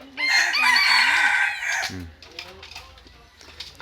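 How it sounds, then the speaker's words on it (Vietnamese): A big rooster crows once loudly and close, a long strained call lasting nearly two seconds, followed by quieter clucking and faint background voices. "gà to"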